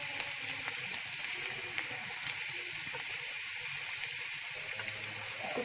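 Garlic frying lightly in hot oil for bhindi salan, a steady soft sizzle and crackle running throughout at moderate level with no voices over it.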